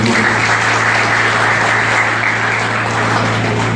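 A crowd at a drinking-water project launch in the commune of Anse-Rouge claps in a sustained, dense burst of applause that stays loud and even throughout.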